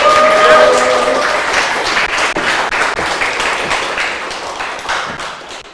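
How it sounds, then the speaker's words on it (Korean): A lecture audience welcoming a speaker with loud, sustained applause, dense clapping that holds steady and slowly fades toward the end. "오늘 멋진 강의를 해주실 PD 양유진 사장님을 큰 박수로 모셔보도록 하겠습니다"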